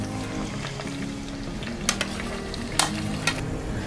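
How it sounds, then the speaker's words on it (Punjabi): Onion and green chili deep frying in hot oil in a pan, a steady close sizzle with a few sharp crackles and pops, no talking. "ਹੁਣ ਪਿਆਜ਼ ਅਤੇ ਹਰੀ ਮਿਰਚ ਨੂੰ ਆਪਾਂ ਡੀਪ ਫਰਾਈ ਕਰ ਲਵਾਂਗੇ।"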